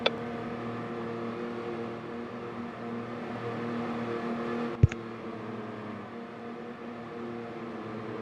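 Onboard run of a Formula E race car on the Cannes ePrix street circuit, a steady electric drive whine with layered tonal hum holding through the lap, plus a sharp knock partway through.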